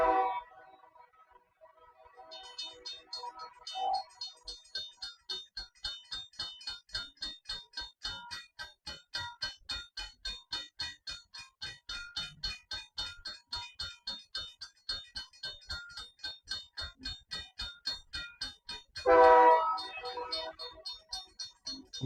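Railroad crossing signals on Prescott activating, a steady rhythmic ding of crossing bells repeating evenly at a moderate distance, with a brief louder burst of sound near the end.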